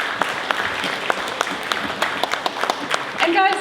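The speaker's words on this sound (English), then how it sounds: "Let's hear a warm round of applause for them as well" Scattered applause from a modest group at an on-stage Republic of Gamers event at Computex 2016, individual claps audible at an uneven rhythm, ending with a brief voice.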